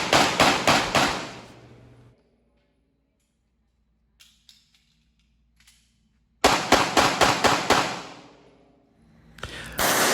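Handgun shots fired in quick strings during bullseye marksman practice, two rapid volleys of about six sharp cracks each separated by quiet, with another shot starting at the end.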